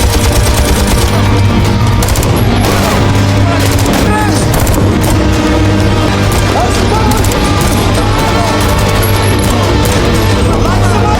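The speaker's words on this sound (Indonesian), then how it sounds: "Tembakan, ledakan, dan perlawanan gigih dari marinir Belanda mengguncang markas" Rapid bursts of automatic gunfire in a film battle scene rattle continuously, punctuated by heavy booms and crashes of explosions, loud and chaotic throughout.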